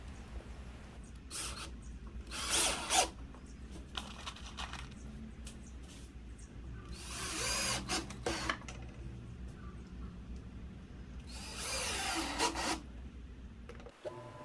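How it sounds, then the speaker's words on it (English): Drill boring two holes through a walnut handle in a woodshop, heard as three loud bursts of a few seconds each with quieter workshop hum between them. "all I'm doing here is drilling 2 holes in the handle and then connecting those holes using a jigsaw"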